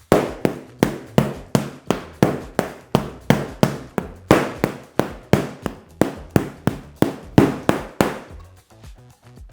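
Paired sticks strike in the Sinawali Heaven 6 double-stick pattern of Filipino martial arts: a steady stream of sharp, close wooden clacks, roughly three per second, in repeating groups that end with a few fading hits, with no talking.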